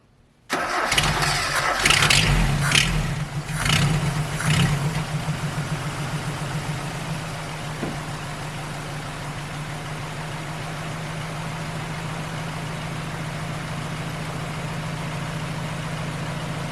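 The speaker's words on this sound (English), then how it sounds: "The truck turned on pretty good." A Mazda B2200 pickup truck fitted with a Weber 32/36 carburetor cranks for a couple of seconds, catches, and settles into a steady, even idle, close and loud with no talk.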